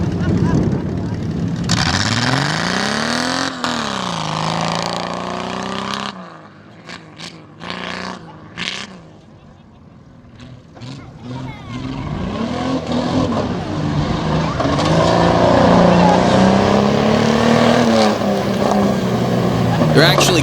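A 2001 Cherokee stock car races on a dirt track at a Dragway 42 cheater stocks event, its engine revving loudly in rising and falling surges and briefly easing off. Talk runs over the engine noise.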